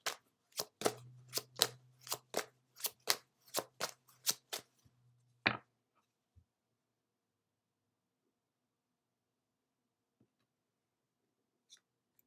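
Someone shuffles a Moonology oracle deck and draws a card: about a dozen quick, crisp card flicks in a steady rhythm, a final snap, then near silence with a few faint ticks.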